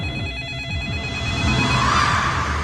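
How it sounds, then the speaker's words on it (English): A telephone bell rings loud and alone in a horror movie trailer, with dark rumbling score swelling beneath it. "In every horror movie, there is a phone waiting to ring."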